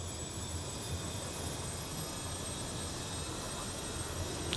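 Airplane engines starting up in a cockpit, a steady, faint whining drone with a thin high tone over a low rumble, unchanging throughout.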